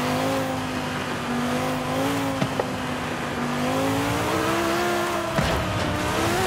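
A race car accelerates hard, the engine note rising and falling in a continuous loud roar with a couple of sharp clicks, no voices.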